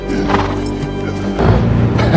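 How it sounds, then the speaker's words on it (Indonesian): A horse gives a loud, close neigh with a rough, rising whinny, set against dense background noise and a heavier thud partway through. "tiba-tiba seekor kuda muncul di sisi lainnya"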